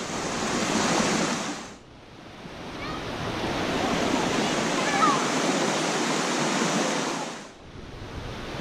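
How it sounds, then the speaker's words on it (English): A waterfall gives a loud, constant rushing roar, with short dips where the level falls briefly before the steady wash returns. "here we are at the waterfall, looking good"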